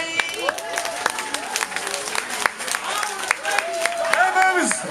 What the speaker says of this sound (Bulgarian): Аплодисменти за вас тази вечер.